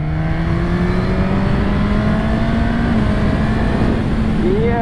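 A 2022 Suzuki Katana motorcycle accelerates hard, its engine note climbing steadily and shifting smoothly through gears with the quick shifter, loud and continuous close by.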